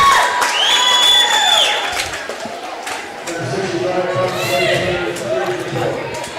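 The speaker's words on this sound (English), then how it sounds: "And the Milbank crowd goes wild." A home crowd at a high school wrestling meet in Milbank cheers and shouts after a fall, loud and continuous, with excited voices, whoops and a commentator talking over the noise.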